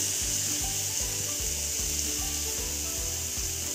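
Finely chopped capsicum and onion sautéing in butter, a steady close hiss of frying with a rhythmic scraping of a spatula stirring the pan about twice a second.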